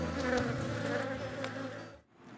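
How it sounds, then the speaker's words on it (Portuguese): Bees buzz at an apiary in the rural area of Carvalhos, Minas Gerais, a dense, continuous swarm hum that sits close and steady before briefly dipping at the end. "Mas tem as abelhas também no campo que ajudam na mata"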